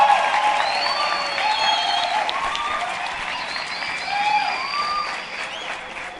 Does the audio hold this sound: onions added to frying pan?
no